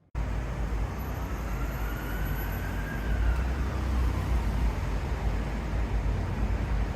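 A moving truck rumbles steadily past with a low, broad roar, its faint whining tone sliding upward then downward in pitch as it approaches and passes, loud and close throughout.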